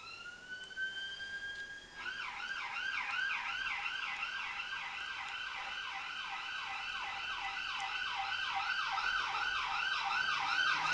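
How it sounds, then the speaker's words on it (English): Emergency vehicle siren wailing outside, starting as a steady tone then switching to a rapid rising-and-falling yelp that continues for several seconds, moderately loud and growing slightly nearer. "Excuse the siren, guys,"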